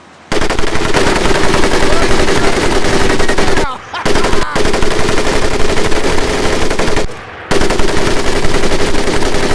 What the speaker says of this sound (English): the M1919A430 caliber machine gun